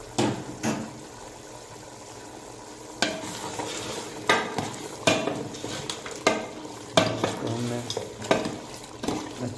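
Desi chicken frying with ground garam masala in a pot, a soft sizzle under repeated stirring scrapes and clinks of a metal spoon against the pot, with intermittent sharper knocks, close and moderately quiet.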